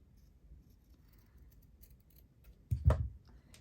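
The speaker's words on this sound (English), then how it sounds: "I'm going to cut a rounded shape." Scissors cut a rounded shape from fabric or paper, a quiet soft snip rising to one clear, louder crunching cut near the end, with no talk.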